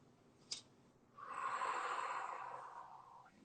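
A single long, deep inhalation taken close by, a soft airy rush lasting about two seconds after a brief sniff, in an otherwise quiet room during a calming anxiety-tapping session.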